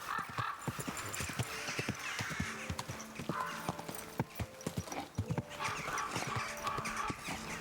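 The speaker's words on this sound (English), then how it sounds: "Easy. Good horse." Horse hooves clip-clop in a steady walking rhythm in the medieval video game Kingdom Come: Deliverance II, close and distinct, with a brief whinny and faint ambient background beneath.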